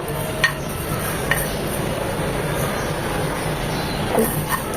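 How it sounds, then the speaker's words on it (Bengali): Radhuni and fennel seeds dry-roasting in a pan give a steady close hiss with a few faint pops and crackles scattered through it. "দেখবেন এরকম হালকা ধোয়া বের হয়েছে এবং একটু মটমট করছে"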